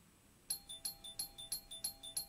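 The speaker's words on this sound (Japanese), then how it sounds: "明らかにインターホンを連打している音が部屋中に響き渡りました。" An intercom doorbell in a horror novel video game chimes in rapid repeated bursts, about eight sharp electronic rings in quick succession, clear and alone with no talking.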